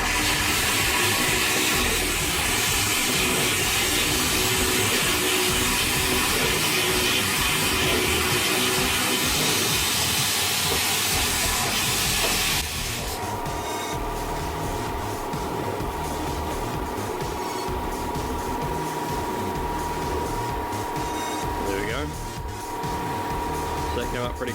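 A compressed air jet blasts through a small nozzle against stainless steel in a workshop, a loud, continuous hiss that holds for about twelve seconds, then drops to a quieter steady rush with faint tonal undertones.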